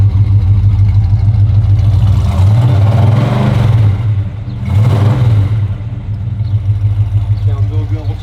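A 1970 Plymouth Duster's exhaust rumbles close by at idle, a deep steady burble broken by a couple of brief revs that swell and settle.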